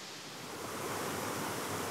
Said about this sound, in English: converge with side-by-side waterfalls of 20 to 25 feet